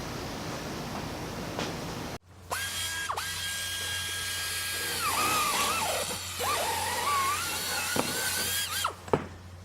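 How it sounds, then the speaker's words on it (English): A power drill bores holes underneath a motorcycle fairing, close and moderately loud, with a steady whine that shifts pitch as it bites, cut by short pauses and clicks. "why did I drill holes underneath my fairing"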